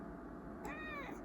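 A pet cat lounging on a couch gives one short, rising-and-falling meow, close and clear over a faint steady background hum, with no talking.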